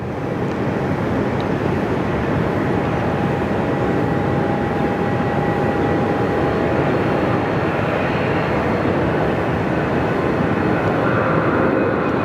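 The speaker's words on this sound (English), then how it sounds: "Another aircraft there, just about to turn final out there for runway right." Steady, loud airliner engine roar from an aircraft on final approach at Sydney Airport, a continuous broadband rumble with a faint whine holding across the whole stretch and no talk.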